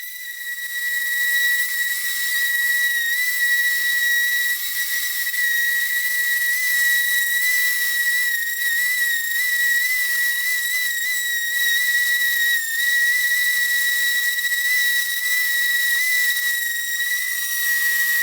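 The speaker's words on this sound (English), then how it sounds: "And now we're to sanding, which is everyone's favorite part" A power sander works over wood for a modern-style crib, giving a steady, loud, high-pitched whine with a hissy edge that holds unbroken throughout, with no talking.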